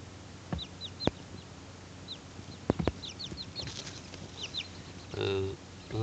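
A young chick with a lump growing on its head cheeps in a series of short, high chirps, some doubled, with a brief scratchy burst near the end and low room noise underneath.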